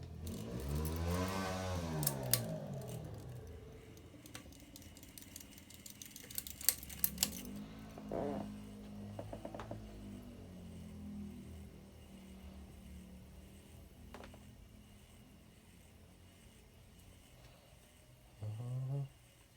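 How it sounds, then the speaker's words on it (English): Emerson Pro Series II ceiling fan on its low setting, the pull chain rubbing against the motor housing: a steady low hum with scattered ticks and scraping rattles, no talking. "it really does sound like it have a loud bearing noise to it, but that's actually the pull chain rubbing up against the motor"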